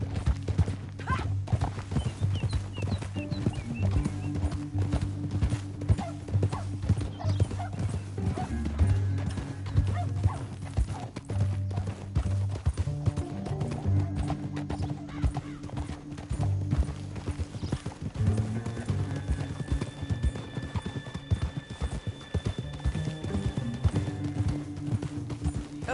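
Horse hooves gallop rapidly and steadily through a Red Dead Redemption game scene, a continuous dense clip-clop with occasional snorts and whinnies, moderately loud over a low rumbling background.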